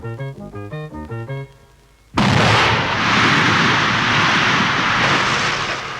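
Construction blasting on a TGV high-speed railway line, a sudden loud explosion that follows a short run of melodic tones and then roars on as a sustained, heavy rumble.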